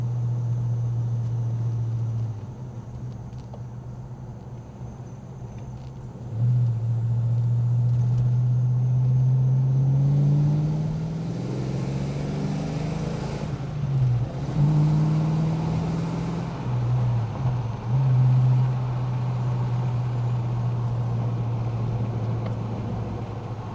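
Inside a Ford Fox Body Mustang driving down the road, a steady low engine drone and road rumble run throughout, rising briefly in pitch as it accelerates mid-way before settling back to a smooth cruise.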